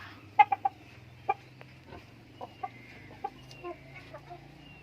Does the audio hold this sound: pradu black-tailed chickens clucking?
yes